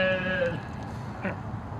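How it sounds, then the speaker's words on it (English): A lamb bleats once near the start, a short wavering cry that is fairly close, followed by quieter farm background noise and a faint second sound. "Our sheep baby up here is also doing fine."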